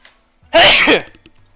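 A single sharp sneeze, close and loud, bursting out of near silence and trailing off quickly.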